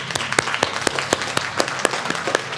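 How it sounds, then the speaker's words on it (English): Audience applause at a school board of education meeting: a few distinct, fairly close claps repeating steadily over a low murmur of the room. "let's give them a round of applause"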